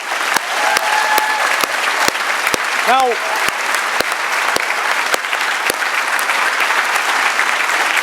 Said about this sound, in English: please give a big round of applause for the people who put this event together